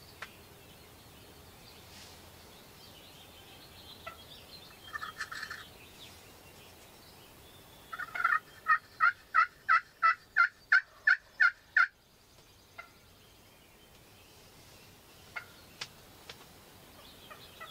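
A series of about a dozen rapid, rattling gobbles from a wild turkey about 40 yards away rings out, following a few scattered calls in an otherwise quiet outdoor setting.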